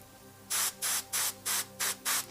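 An airbrush lays down thin layers of paint in six short, even hissing bursts, close and soft, separated by brief quiet gaps.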